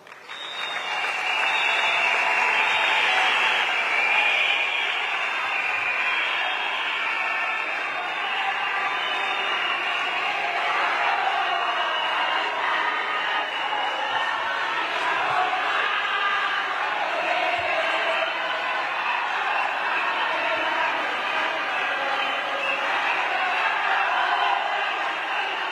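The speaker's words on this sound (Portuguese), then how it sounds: "Peço a todas as delegadas uma salva de palmas." Delegates at a women's organisation party congress clap together in a sustained, even round of applause heard from within the hall, with a few faint whoops and murmurs mixed in.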